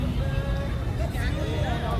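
Dense crowd hubbub fills a park at dusk, a steady wash of many overlapping voices and general commotion with no single sound standing out.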